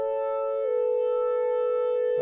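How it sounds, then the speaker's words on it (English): A steady sine wave tone from a Steinberg HALion 6 synthesizer holds smoothly, dropping slightly in pitch early on before sustaining evenly to the end. "that's just a basic sine wave"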